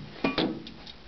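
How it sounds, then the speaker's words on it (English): An antique bow-front cabinet door swings shut with a short wooden knock followed by a second soft clunk, close by in a quiet room. "And closing the door."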